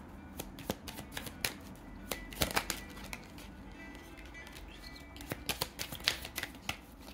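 Tarot cards shuffled close up in a run of crisp riffling bursts and flicks, with a few pauses between flurries and no voice.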